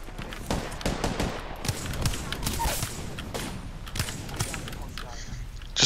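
Heavy gunfire fills an Apex Legends match, with many weapons firing rapid, overlapping bursts and sharp cracks that stay loud and dense throughout.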